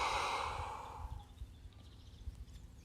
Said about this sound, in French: Expire par la bouche pour vider tes poumons.